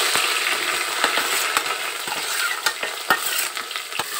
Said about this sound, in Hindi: अब हम इसमें डालेंगे जो हरी मिर्च काट रखी है, ये हम इसमें डाल देंगे।